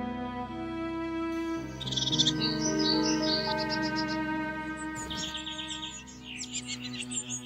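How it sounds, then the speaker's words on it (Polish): Forest birds sing in an old-growth woodland, nuthatches, tits, flycatchers, robins and nightingales, with clear overlapping chirps and trilled phrases close by over a steady tonal background. "Kowaliki, modraszki, bogatki i inne sikory, muchołówki, białoszyje, żałobne i małe, pełzacze, rudziki, świstunki, pierwiosnki i słowiki"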